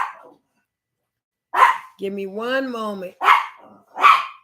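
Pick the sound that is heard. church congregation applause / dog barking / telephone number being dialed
dog barking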